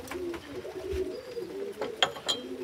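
Pigeons coo steadily in a loft, a low continuous rolling murmur from several birds close by, with a couple of brief sharper knocks or flutters near the end.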